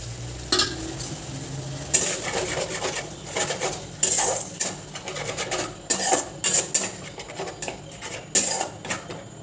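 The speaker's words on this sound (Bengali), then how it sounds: "আমি ভালো করে বেশ তেলের মধ্যে ভালো করে ফ্রাই করে নিচ্ছি।" Oil frying in a pan while fish curry is cooked at home, with a steady sizzle under repeated clinks and scrapes of a metal utensil stirring against the pot, close and fairly loud.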